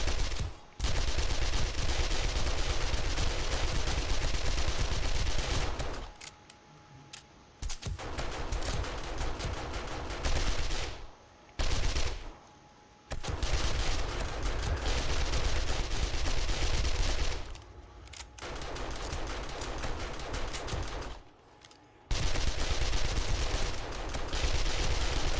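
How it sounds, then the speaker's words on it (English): Submachine gun in 7 Days to Die during horde night, firing long, loud sustained bursts with several short pauses between volleys, no talking. "So let's see how the submachine gun does."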